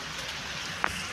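Rain falls steadily in a village, a dense, even hiss of drops with one brief sharper tap near the end.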